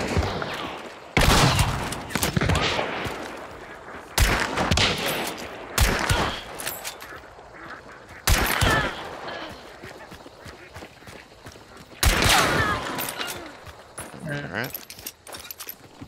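Gunfire in Hunt: Showdown, several loud bursts of shots, each followed by a trailing echo, spaced across the stretch with quieter game ambience between.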